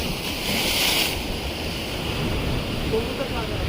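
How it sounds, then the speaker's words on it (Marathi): Sea waves surge and break on a shore during traditional fishing, a steady broadband wash with a louder swell near the start, mixed with wind noise on the microphone. "लाटं पण आहेत, पण मध्ये मध्ये लाटं ना मोठीच येतात आणि नंतर मग जास्त मोठी नाही"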